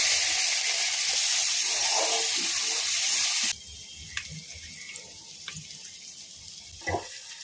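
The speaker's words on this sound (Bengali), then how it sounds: "পেঁয়াজ কুচি করে রেখেছিলাম, পেঁয়াজটা তেলের মধ্যে দিয়ে দিলাম।" Chopped onion hits hot oil in a home kitchen where fish curry and mixed vegetables are being cooked. A loud, steady hiss lasts about three and a half seconds, then cuts away to quiet background with a few soft clinks.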